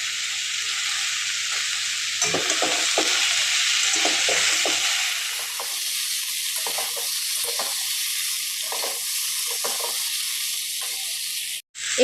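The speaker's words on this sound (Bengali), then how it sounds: "আলুগুলো হালকা করে ভেজে নিয়েছি। এর ওপরে এবার আমি বরবটিগুলো দিয়ে দিচ্ছি।" Potatoes and yardlong beans fry in a pan, a steady broad sizzle that loudens and eases as the vegetables are added and stirred, with soft scraping knocks underneath, close and without talk.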